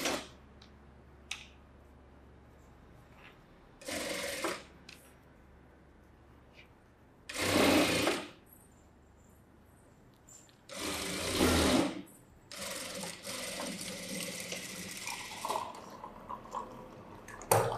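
Sewing machine stitching a folded seam on a collar-neck princess blouse, running in several short bursts of a few seconds each with quiet pauses between, close and fairly loud, no voices over it.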